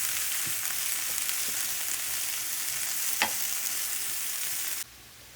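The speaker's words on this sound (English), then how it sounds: "some mushrooms with a little bit of olive oil in a pan, which I am going to, I'm just going to move it around and cook that all together" Mushrooms frying in a little olive oil in a pan as they are moved around, a steady close sizzle with a few light scrapes, cutting off abruptly near the end.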